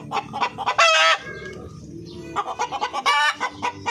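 Chocolate Orpington chickens cluck loudly and close by at feeding time, with bursts of squawking calls and a brief crow-like cry, broken by short pauses.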